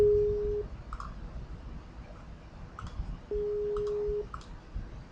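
A Skype call dropping during a Minecraft session: a steady disconnect tone sounds briefly, is followed by a few soft clicks, and then returns as a longer flat tone.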